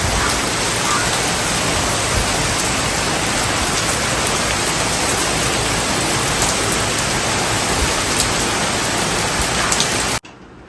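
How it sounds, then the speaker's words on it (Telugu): Heavy rain pours down in a dense, unbroken hiss that stays loud and even throughout, then cuts off abruptly just before the end. "కానీ చూస్తే వర్షం పడుతుంది."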